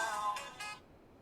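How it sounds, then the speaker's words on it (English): A mobile phone ringtone plays as a short, bright electronic melody of about three tones, fairly clear and alone, then stops abruptly. "That was my ringtone."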